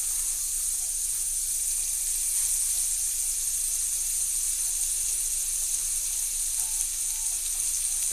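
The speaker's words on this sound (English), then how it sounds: "you want to hear that sizzle" Steady, bright sizzling of food frying in hot oil, a continuous hiss with no talking.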